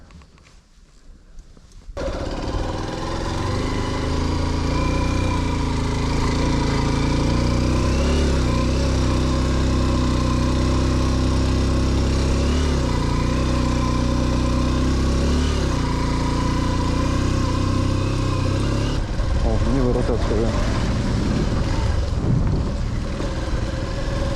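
A motorcycle rides out through sand on a rough track, its engine droning loud and steady close to the microphone with shifting revs and wind buffeting, and no talk.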